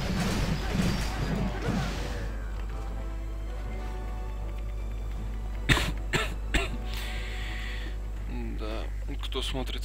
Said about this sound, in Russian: Надеюсь, никого мой кашель не напрягает.